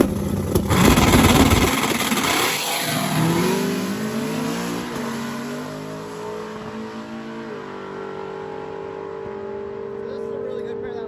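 Stick shift class drag racing cars launch side by side, one naturally aspirated, with a loud burst of engine roar that fades into rising, fading revs as they pull away, while a commentator talks over it.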